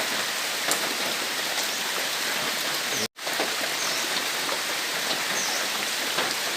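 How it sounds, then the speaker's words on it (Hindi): Steady heavy rain pours over a village yard in Bangladesh, a thick unbroken hiss with occasional louder drips nearby, cut by one abrupt brief dropout midway, and nobody speaks. "सुबह से हो रहा है बारिश।"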